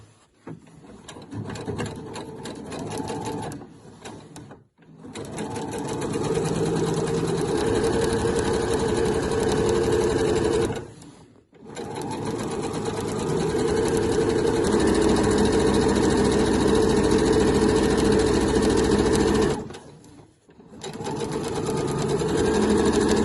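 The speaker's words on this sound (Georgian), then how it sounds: "ნემსი ჩავდოთ ხაზზე ზუსტად და დავიწყოთ კერვა." A sewing machine stitches quilt fabric in long steady runs of fast, whirring mechanical chatter, stopping briefly three times between bursts, close and loud with no talking.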